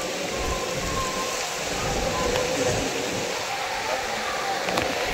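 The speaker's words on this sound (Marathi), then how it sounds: "सो फायनली इथे बघू शकता पाऊस आलाय." Rain falls at Ratnagiri on the coast as a steady, unbroken hiss that stays even throughout, with no voices over it.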